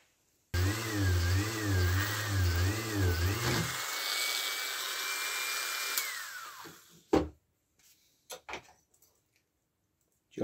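A small drill bores holes out to 1.5 mm in a brass balcony part, giving a whining tone that wavers and then holds steady for a few seconds before winding down, followed by scattered clicks and handling taps.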